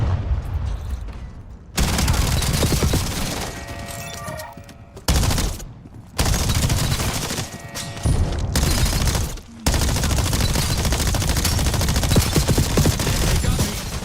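Sustained automatic gunfire and heavy blasts fill a video game firefight, loud and dense bursts broken by short pauses.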